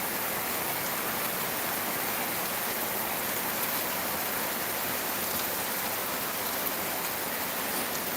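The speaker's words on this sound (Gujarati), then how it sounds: "અમારે તો વરસાદ ફૂલ પડી રહ્યો છે અને ગાજ વીજ સાથે પડી રહ્યો છે" Heavy rain pouring outdoors in Gir during a thunderstorm, a dense, even roar of drops filling the whole stretch without pause, close and continuous with no voices.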